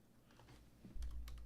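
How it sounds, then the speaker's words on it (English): Rapid clicking of a computer keyboard being typed on, soft at first, then a denser, louder burst of keystrokes near the end, close and without speech. "I don't know if you can see me typing."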